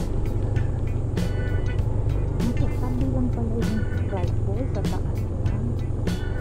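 Vehicles driving at the gate of Dalitiwan Resort in Majayjay, Laguna, Philippines, with a steady engine rumble and passing traffic under crowd chatter and voices.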